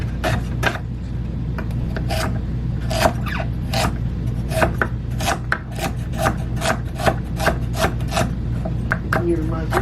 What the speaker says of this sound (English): I'm going to just wash my veggies, peel some of the carrots and potatoes